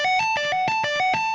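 Distorted electric guitar tapping a fast repeating note pattern from a guitar solo: bright, evenly spaced tapped notes in quick succession, loud and close, with no talking.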